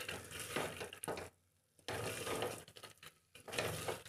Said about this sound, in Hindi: इसको थोड़ा सा इस तरह से चलाएंगे जिससे कि ये मसाले के साथ अच्छे से फ्राई भी हो जाए